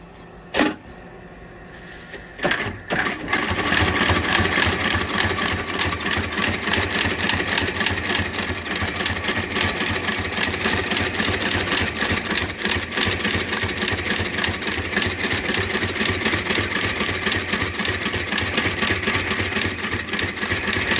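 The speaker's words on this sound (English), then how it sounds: "We're going to do red stitching, which means red stitch on the welt, red stitch on the bottom." A stitching machine sews red welt stitching on boots, starting after a few clicks and then running in a fast, even mechanical chatter, loud and close, for a long unbroken stretch.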